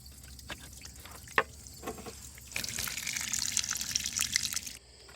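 Water drains out of the plug openings on a Hayward inground pool pump during winterizing: a few scattered drips and taps, then a steady close splashing gush that stops abruptly.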